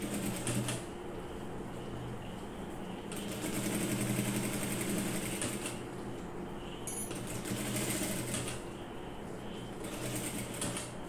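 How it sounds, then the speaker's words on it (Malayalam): A sewing machine stitches along a garment neckline, whirring in steady runs with short pauses between them, close and fairly quiet with no voices. "ഞാനിപ്പോ ആദ്യം നെക്കിന്റെ അറ്റത്തോടെയാണ് സ്റ്റിച്ച് ചെയ്ത് കൊടുക്കുന്നത്"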